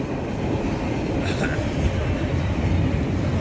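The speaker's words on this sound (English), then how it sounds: "we do get a lot of trains" A train rumbles past steadily in Chesterton, Indiana, with a low, continuous roar of rolling wheels and a faint squeal, heard from nearby.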